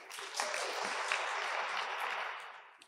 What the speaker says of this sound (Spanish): Gracias y un fuerte aplauso a Valeria García.